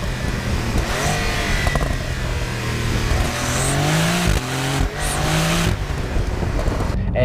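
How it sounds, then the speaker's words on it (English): A 2020 Porsche 911 in sport mode: the engine revs up and down through gear changes with a throaty drone, and a few sharp exhaust pops stand out near the end. "You get a little bit of pops and bangs from the exhaust."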